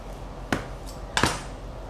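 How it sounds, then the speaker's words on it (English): A knife halving tomatoes and avocados on a cutting board for a chicken and vegetable poke bowl: two sharp cutting knocks, a single one and then a quick double, in a quiet room. "going to halve the tomatoes and the avocados"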